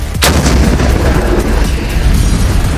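One powerful SPG-9M recoilless gun discharge cracks out early, then a long heavy rumble and noisy reverberation trail off outdoors.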